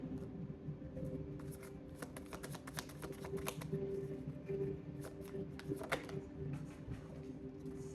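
Rapid riffling and snapping of a deck of cards being shuffled, close up, in repeated bursts over a low steady background hum, as tarot or oracle cards are shuffled for a reading.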